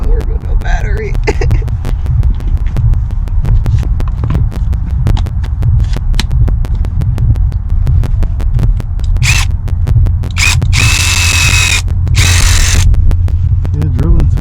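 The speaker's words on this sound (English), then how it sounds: "drilling fabric ain't exactly easy" Power drill grinding into fabric sound deadener inside an Escalade during a Bose system bypass, a loud continuous throbbing whir with brief higher-pitched bursts as the bit bites, close up throughout.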